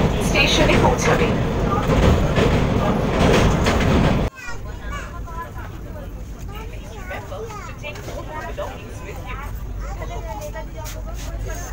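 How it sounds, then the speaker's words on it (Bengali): Howrah–Puri Vande Bharat Express running toward Jajpur Keonjhar Road station: a loud rolling rumble gives way partway through to a quieter steady hum, with people talking over it. "আমাদের ট্রেন এখন এই মুহূর্তে এসে পৌঁছালো আমাদের যাত্রাপথের পঞ্চম স্টপেজ"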